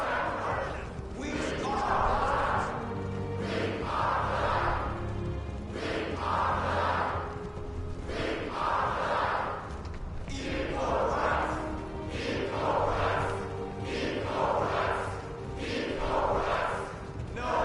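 A crowd of protesters marching down a street in a video game chants in loud, rhythmic bursts about every two seconds, with voices and a steady low rumble beneath.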